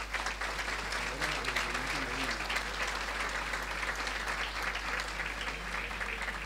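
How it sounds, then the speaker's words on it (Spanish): Audience applause at a ceremony marking an engineering faculty's 60th anniversary, a steady, dense wash of clapping that holds for several seconds over a constant low hum. "Los aplausos para ellos."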